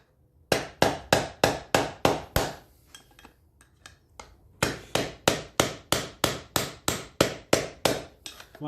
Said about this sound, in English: the best way I've found is with a decent sized screwdriver and a thumb hammer